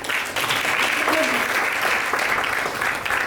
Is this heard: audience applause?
yes